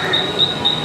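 A Mumbai local train on the Harbour line pulls out of platform 2 at CSMT toward Panvel, a loud steady rumble with a high metallic whine, heard from inside the carriage.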